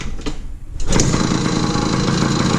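A 2000 Yamaha PW50 dirt bike is kick-started: a few quiet scrapes of the kick, then the small two-stroke engine catches and buzzes steadily and loudly up close.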